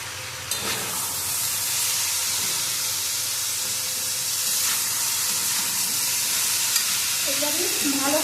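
Vegetables with turmeric and coriander powder sauté in a hot pan, giving a steady, close sizzle and hiss with occasional stirring scrapes throughout.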